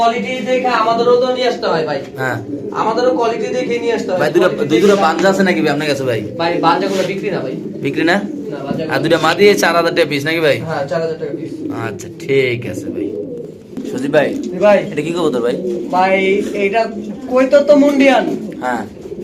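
Pigeons coo repeatedly in low, throaty bursts at a pigeon sale while several people talk loudly over them nearby.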